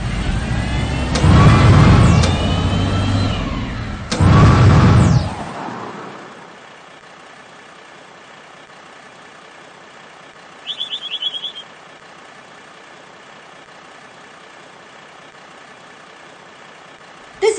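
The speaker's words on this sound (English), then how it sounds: "Now drive the bulldozer forward to push the dirt into the hole." Cartoon video-game bulldozer engine roaring loudly in two revving bursts with rising and falling pitch, then fading to a quiet hum, followed by a short chirpy effect and a final click.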